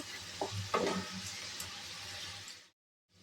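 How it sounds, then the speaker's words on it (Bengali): Spice paste frying in oil for a Bengali tangra catfish curry, a steady close sizzle with a few stirring scrapes early on, cutting off abruptly near the end. "মশলা থেকে তেল ছাড়া পর্যন্ত একটু অপেক্ষা করব।"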